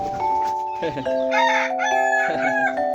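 A native village rooster crows loudly and close, a long drawn-out call with a held tone, set among free-ranging native chickens after rain.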